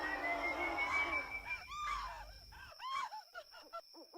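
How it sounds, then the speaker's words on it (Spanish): A distant, drawn-out scream with wavering, strained cries carries faintly at night in a rural hunting area, followed by several shorter broken calls. "Sonó como alguien gritando"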